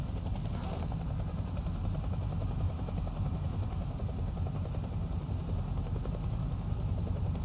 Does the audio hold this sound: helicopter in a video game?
yes